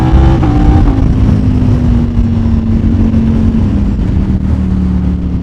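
Ducati Panigale V4 superbike engine pulling hard on a street ride, a loud continuous roar with a tone that falls steadily over several seconds, heard close up with wind noise.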